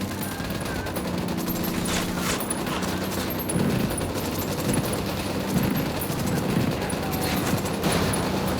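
Sustained gunfire in Ghost Recon Wildlands, with rapid automatic bursts and overlapping shots rattling on without pause against a steady battle backdrop.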